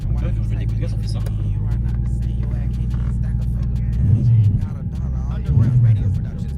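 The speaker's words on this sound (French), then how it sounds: "quand je fais des coups de gaz, ça fait ça" A motorcycle engine running without its airbox idles with a steady rumble, then swells twice in short throttle blips, loud and close, with a voice talking over it.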